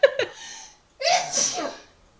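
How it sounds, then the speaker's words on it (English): One person sneezes close to the microphone: a short sharp intake and catch of breath, a brief pause, then a loud, breathy sneeze that trails off into silence. "I'm gonna sneeze."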